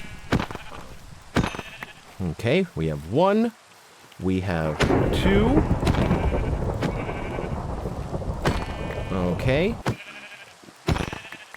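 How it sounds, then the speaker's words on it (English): Sheep in the Minecraft video game bleat and are killed during a thunderstorm, giving several short, wavering bleats in bursts. Rumbling thunder and rain run underneath, and a person talks between the bleats. "As painful as that was for me to watch those sheep die, I'm not sorry, and I'll probably do it again."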